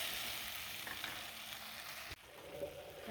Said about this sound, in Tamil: தக்காளி வேகட்டும்